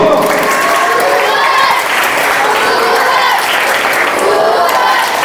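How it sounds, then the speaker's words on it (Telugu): A crowd of schoolchildren at a first aid awareness programme in a school hall claps steadily for about five seconds, with children's shouts and cheers mixed into the dense, continuous applause. "అయితే ఒక్కసారి సూపర్ క్లాప్స్ గో."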